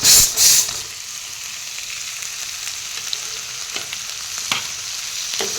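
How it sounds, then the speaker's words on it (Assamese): Fish frying in a pan in village-style home cooking, with a loud clatter at the start, then a steady moderate sizzle and occasional stirring scrapes, no talk. "মাছখিনি দি তল ওপৰ কৰি এয়া লৰাই দিম"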